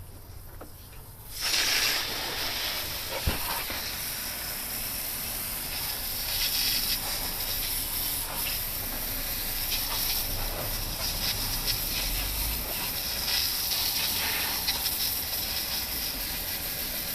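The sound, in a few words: water spray rinsing degreaser foam off a Suburban engine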